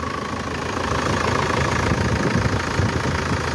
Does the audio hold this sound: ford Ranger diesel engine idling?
yes